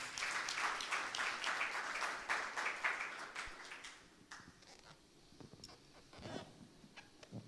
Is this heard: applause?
yes